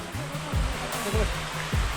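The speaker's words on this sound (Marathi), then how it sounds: "धबधबा इकडे अगदी वरपर्यंत आहे आणि पाऊस स्टार्टअप झालेला आहे" Steady broadband rush of a waterfall near Tungareshwar temple with rain falling, continuous and fairly loud, with a few low thumps and faint voice-like tones passing through.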